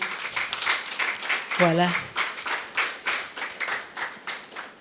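Audience clapping in rhythmic bursts for the technical and audiovisual crew at a literary event on women and literature, with a brief spoken word in the middle.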